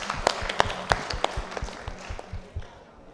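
Scattered applause for quiz teams at a school quiz competition, a handful of sharp claps with uneven rhythm tapering off over a few seconds, close by and without talk.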